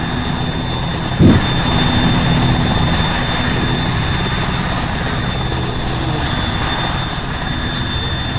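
A military helicopter in the video game Arma 3, a steady loud rotor and turbine drone lasting the whole stretch, with a brief thump near the start and no talking over it.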